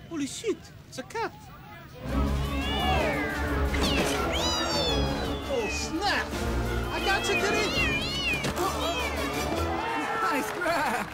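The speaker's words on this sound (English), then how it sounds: "Holy shit, it's a cat." A cat rescued at a fire scene meows again and again, insistent rising and falling cries over loud overlapping voices and crowd commotion, with a few faint meows before the noise swells.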